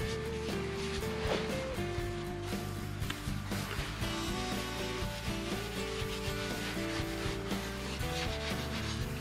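A spinning cedar bowl on a wood lathe running near 2000 RPM gets sanded with a soft pad: a continuous loud, rough rubbing rasp over the steady hum of the machine, with no voice.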